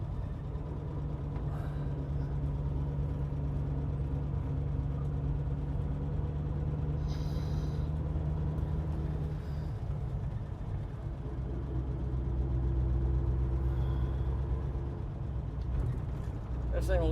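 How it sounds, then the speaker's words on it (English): 1948 Buick Super Woody Wagon with a straight-eight engine driving, a steady low engine drone lugging along with road rumble, someone talking over it at times. "That straight 8 engine's got a lot of torque."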